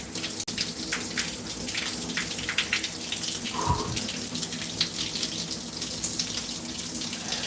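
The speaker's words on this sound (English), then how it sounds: "the sound quality during the shower when the water is running" Shower water running steadily during a cold shower, a continuous close hiss of spray and splashing that holds without a break, with one brief knock near the start.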